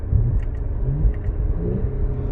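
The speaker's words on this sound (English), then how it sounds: "I'll put it in sport mode. I don't know if you can hear it or not. This is downshifting" 2018 Audi S5 B9 automatic in sport mode downshifting quickly: a close, steady low engine rumble with brief pitch shifts and a few short rising sweeps, heard alone without talk.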